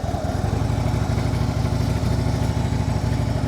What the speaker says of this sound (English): And you can turn your bike around like this.